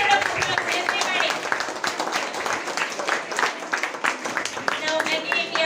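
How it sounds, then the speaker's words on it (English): A crowd claps and applauds continuously, a dense patter of many hands mixed with murmuring voices, at a high school Founder's Day celebration. "give them a good round of applause, everybody"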